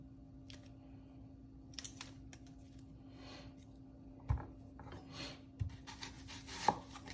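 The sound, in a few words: chopping an onion with a knife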